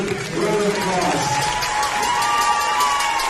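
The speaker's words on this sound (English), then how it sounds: "please give both of these teams a very well-deserved round of applause" Crowd applauding both teams at a college sports match, a steady wash of clapping and cheering that fills the space, with some voices rising above the noise.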